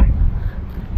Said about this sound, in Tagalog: Kaya ngayon grabe ang lakas ang hangin.